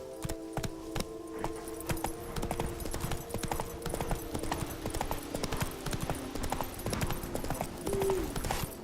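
Roach, the horse in The Witcher 3, gallops with a fast, loud, unbroken hoof rhythm against a steady game background, with no talking.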